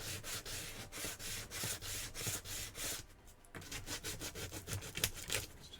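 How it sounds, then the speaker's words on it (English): Fine sanding by hand: steady rhythmic rubbing strokes, close and fairly quiet, with a brief pause midway before the strokes resume. "A little bit of fine sanding here and there that needs to be done."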